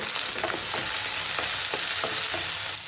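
Chopped onion and green chili fry with garlic in hot oil, making a loud, dense sizzle close by, punctuated by repeated scraping taps of a spoon stirring.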